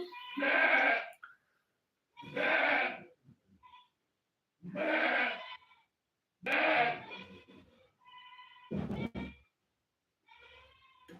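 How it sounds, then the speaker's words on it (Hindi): A goat bleats loudly and close by in a series of about five drawn-out, wavering cries spaced a couple of seconds apart, followed by a couple of quieter calls, with no talk over them. "ये बकरी अभी तक बोल रही जी।"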